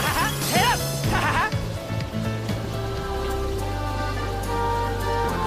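Sheep bleat several times in quick succession early on in the video game Balan Wonderworld, wavering and fairly loud over steady game music and ambient noise.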